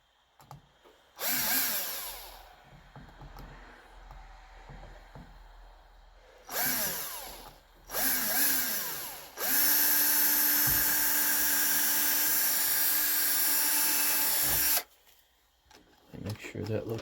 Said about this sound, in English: let's drill the holes